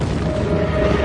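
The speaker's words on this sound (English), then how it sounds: "The entire sequence of pyroclastic explosions that formed the Yellowstone caldera may have taken as little as 2 weeks to happen." Explosive volcanic eruption boom from the Yellowstone supervolcano's pyroclastic blasts: a loud, dense, rumbling roar filling the low end, sustained without a break across the whole short moment.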